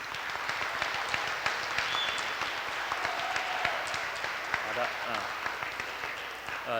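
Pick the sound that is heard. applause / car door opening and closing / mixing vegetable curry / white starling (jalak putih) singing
applause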